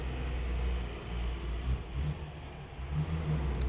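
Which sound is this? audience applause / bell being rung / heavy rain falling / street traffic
street traffic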